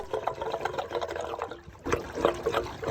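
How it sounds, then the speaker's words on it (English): Water drains down out of a pool filter on a Hayward Maxflo VS pump system after a pressure drop, making a steady trickling, gurgling flow that briefly dips before surging again, with no talking. "and the filter starts to drain down."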